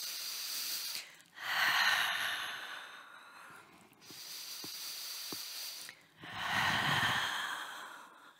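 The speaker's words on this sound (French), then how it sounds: "Une dernière fois, inspirez et expirez" Slow, audible breaths during a Pilates stretch, each inhale and exhale a soft airy hiss lasting a few seconds, close to the microphone, with brief pauses between them and no talking.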